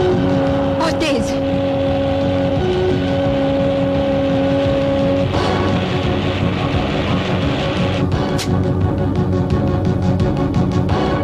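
A taxi speeds along fast, its engine and road noise droning steadily under dramatic film music, with a few sharp bursts cutting through the mix.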